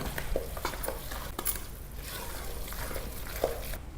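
A spoon works through lemon pickle mixed with chili powder and oil, giving soft, wet, scraping stirs with a few sharper clicks against the bowl, quiet and steady.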